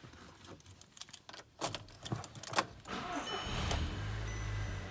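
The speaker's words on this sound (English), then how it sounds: "So let's climb in and we'll fire this one up." A 2008 Audi TT Coupe with a six-speed automatic is started up: a few clicks and brief whirring, then the engine catches at about three seconds and settles into a steady, fairly close idle, with no talking.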